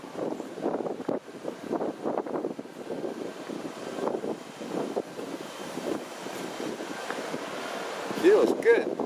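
A seaside breeze rushes across the microphone outdoors, gusty buffeting wind noise with a faint wash of surf underneath, steady over several seconds, briefly louder near the end.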